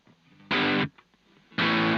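Two loud, thick bursts of overdriven electric guitar through a mid boost effect on a Boss BR-800, each chord ringing for about a third of a second, separated by a quiet gap.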